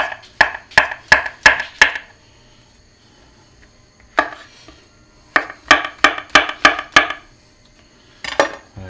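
Knife chopping vegetables thickly on a board for pasta, quick runs of sharp, evenly spaced thuds in bursts of five or six, loud and close with pauses between.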